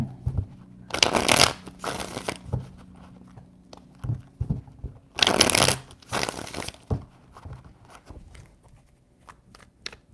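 Tarot cards shuffled by hand in two loud riffling bursts, followed by scattered softer taps and card handling, close and fairly quiet, with no talk.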